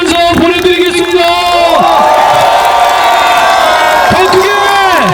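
A dense outdoor political rally crowd at Geumneung Station in Paju cheers loudly for Democratic Party leader Lee Jae-myung, with sustained shouting, whoops and voices calling out, steady and close throughout.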